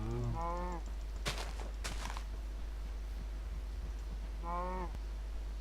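Two synthetic-sounding cow moos from the game Minecraft, one at the start and one near the end, separated by a pair of sharp bursts amid a steady electronic hum.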